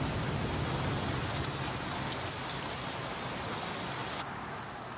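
Rain in a video game, a steady broadband hiss of falling drops that stays even throughout, with no talk over it.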